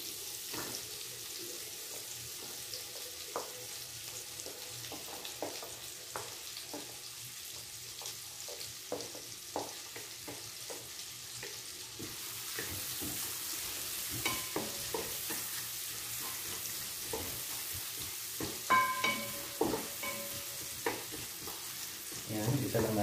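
Onion fries in a pan for squid adobo: a quiet, continuous sizzle with scattered light clicks and scrapes from stirring, growing somewhat livelier toward the end.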